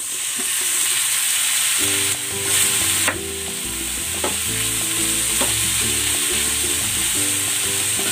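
Pork and sliced onions sizzle in a pan, with a steady hiss of frying and repeated scraping and clinks as the mixture is stirred close by.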